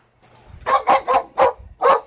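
A young, still-growing dog gives five loud, deep barks in a steady rhythm after a quiet start, each bark sharp and close.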